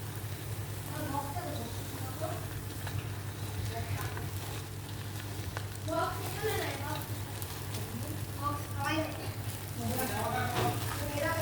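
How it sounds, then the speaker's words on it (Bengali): Polao rice frying in oil with green chilies gives a steady, quiet sizzle throughout, with a voice speaking over it intermittently. "কাঁচা মরিচ দিচ্ছি তেলে পোলাওটা ভেজে নিচ্ছি"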